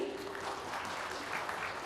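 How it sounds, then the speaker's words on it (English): Audience applause fills a conference hall at a marketing congress session, a steady, dense clapping that holds evenly throughout at moderate volume with no voices over it. "A huge round of applause for the esteemed dignitaries gracing this occasion on the dais."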